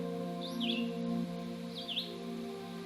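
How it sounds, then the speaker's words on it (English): Two faint, brief bird chirps sound from a distance over a steady low hum and background drone, in a wooded lakeside provincial park in Nova Scotia. "the sounds of birds and frogs"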